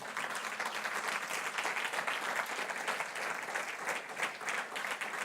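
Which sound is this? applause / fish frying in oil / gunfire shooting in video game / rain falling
applause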